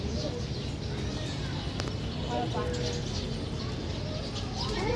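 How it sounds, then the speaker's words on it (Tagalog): House sparrows chirp at Manila Zoo, scattered light tweets over a dense, busy background with people talking nearby. "Ang daming maya."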